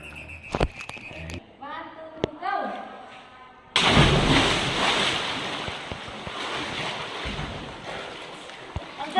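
Rushing water of a waterfall inside Pindul Cave, a loud, steady broadband roar that starts abruptly partway through and continues to the end, preceded by a few brief voices and splashes echoing in the dark cave zone.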